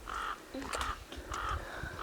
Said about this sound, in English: Oh, we got some bird singing going on.